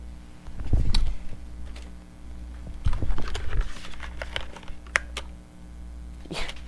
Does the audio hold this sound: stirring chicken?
no